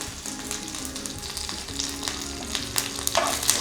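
Cumin, a dried red chili and curry leaves frying in hot oil for a spicy onion chutney, a steady close sizzle with faint crackles and a few stirring scrapes throughout.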